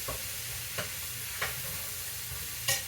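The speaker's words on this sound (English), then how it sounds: "I simply just brown the hamburger meat" Hamburger meat browns in a soup pot for homemade beef soup, grease left in, giving a steady close sizzle with a few sharp scrapes of a spoon stirring at intervals.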